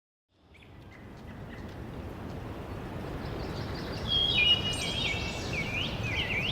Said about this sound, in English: you're birding in New York, you can hear all these birds singing